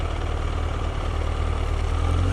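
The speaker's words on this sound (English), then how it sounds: "So it's running good now, and the engine is real hot." Triumph Daytona T300 motorcycle engine idling while running hot, a steady close-up rumble with an even low throb and no change in pitch, loud and continuous with no voices.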